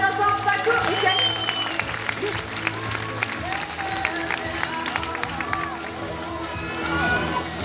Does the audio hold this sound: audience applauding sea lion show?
yes